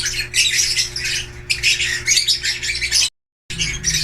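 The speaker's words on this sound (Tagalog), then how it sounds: "ayan po yung cock na blue pale fallow" A blue pale fallow cock bird, likely a budgerigar-type pet, squawks in rapid harsh bursts close to the mic, chattering continuously with a brief silent gap near the end.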